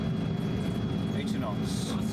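Engines of a heavy aircraft at takeoff power during the takeoff roll make a steady, dense roar heard from inside the cockpit, with faint voices in the background.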